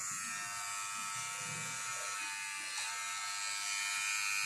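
Gold-plated Kemei 1931 barber hair clipper, freshly oiled, running with a steady, loud electric buzz that holds constant throughout, close by and without talk.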